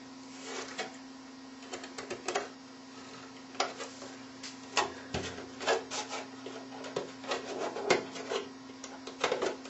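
An X10 knife blade scrapes plastic slag from drilled holes in short, irregular rasps and ticks, faint and close, over a steady low electrical hum.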